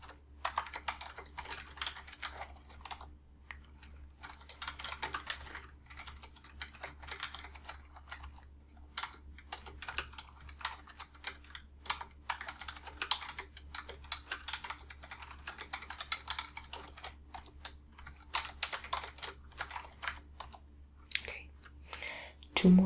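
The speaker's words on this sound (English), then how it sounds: "I'm just typing all the questions down" Intermittent bursts of typing on a computer keyboard, soft clicks in quick runs with short pauses, over a faint low hum.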